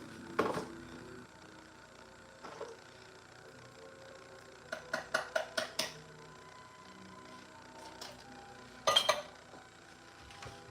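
Dishes and cutlery clink as food is served from a pot in a home kitchen, with scattered light knocks and a quick cluster of sharp clatters mid-way and another near the end, moderately quiet with no talking.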